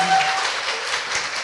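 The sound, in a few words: studio audience applause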